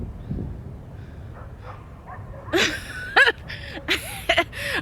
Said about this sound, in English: I hear a whole bunch of dogs.